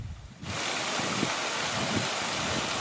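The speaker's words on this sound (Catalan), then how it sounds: "També hi ha uns jets o sortidors que ejecten l'aigua de manera circular, fent un soroll que fa de fil musical permanent" Water jets of a park fountain spraying in circles in a Dublin garden basin, a steady broadband hiss and splash starting abruptly after a quiet moment and continuing evenly, fairly close.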